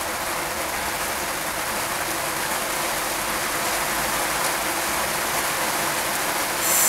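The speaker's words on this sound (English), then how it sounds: "It just started to rain." Steady rain falls in a dense, continuous hiss, close and even throughout, with no voices.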